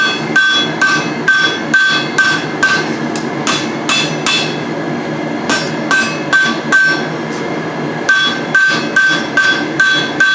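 Steel tongs are forged with a hammer on the edge of an anvil, giving sharp ringing blows in a steady rhythm, close and loud, with brief pauses between runs of strikes.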